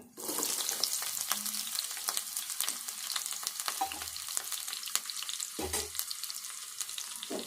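Spices frying in oil in a pan for an onion-spiced brinjal dish, a steady close sizzle and crackle running throughout with a few low clunks of stirring, no one talking.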